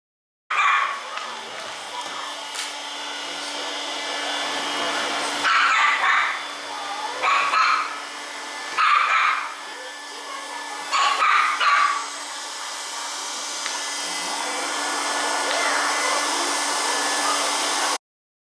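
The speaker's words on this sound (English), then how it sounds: "next I'm going to show you guys how this does on carpet as well as how it sounds on carpet" A Roomba robot vacuum cleaner runs on carpet with a steady whirring motor drone, rising in a few brief louder surges as it moves, with no talking over it.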